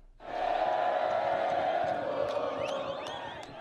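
A large crowd of Grêmio football fans roars and cheers continuously at a team send-off in Porto Alegre, a dense wall of voices with scattered shouts and whistles rising through it.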